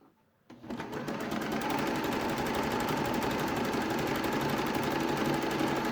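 A sewing machine stitching a jersey top starts up after a brief silence and runs at a fast, steady rattling pace, loud and close, with no talk.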